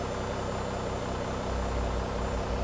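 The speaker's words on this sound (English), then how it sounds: "starting engine number 2. There we go, here the engine's spawning up outside" A Boeing 737 engine (Zibo mod) in the X-Plane 11 flight simulator gives a steady, close, low broadband rumble and hum, continuous and even throughout with no talking.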